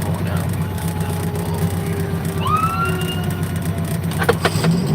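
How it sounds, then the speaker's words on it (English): A fire truck siren rises and sweeps over a steady road and engine rumble as the truck heads out, wailing clearly at mid distance and growing busier toward the end. "We got this fire truck going out."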